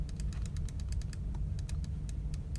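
Computer mouse clicks while using the Photoshop clone stamp tool, a quick irregular series of light, crisp taps over a faint low hum.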